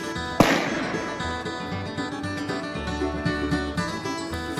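One sharp, loud report from an old Spanish flintlock musket at an outdoor winter shoot, followed by a ringing decay and the murmur of people talking nearby.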